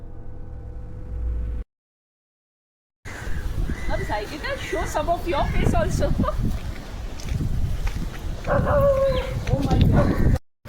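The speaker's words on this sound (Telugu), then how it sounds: "అక్కడ దిగగానే కుక్కలు అరవడం మొదలుపెట్టాయి" Dogs barking near a beach at night in rain, sharp repeated barks and yips heard among voices and wind, after a brief silent gap at the start.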